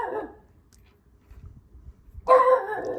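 A dog barking in the distance, a short burst at the start and a louder, closer burst near the end, with quiet background between.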